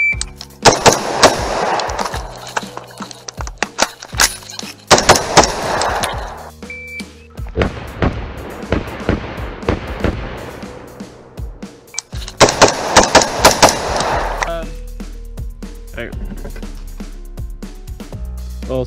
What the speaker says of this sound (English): Well, six shots, three targets, two shots per target.